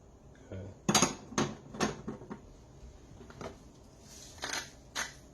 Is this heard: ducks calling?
no